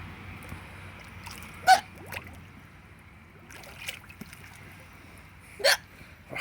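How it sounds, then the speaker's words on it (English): Hiccups from someone in a swimming pool, a few sharp isolated bursts spaced seconds apart over soft water sloshing and faint background noise. "You got a lot of hiccups in there."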